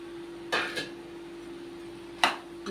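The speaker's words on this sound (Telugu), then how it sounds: "ఇక మామిడికాయ ముక్కలు వేస్తున్నాండి." Pieces of raw mango dropped into a cooking pot of bottle gourd and moong dal, giving two brief clattering impacts against the metal amid a steady low hum.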